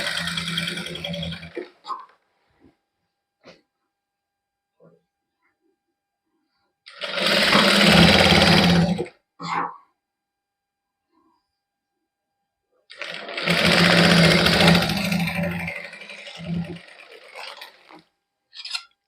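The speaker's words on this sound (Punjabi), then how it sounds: "ਬਰੀਕ ਸਲਾਈ ਲਾ ਦਾਂਗੇ ਇਥੇ" Sewing machine running fine straight stitching along a plain suit, in two long loud bursts of steady whirring with short starts and taps between, no talking.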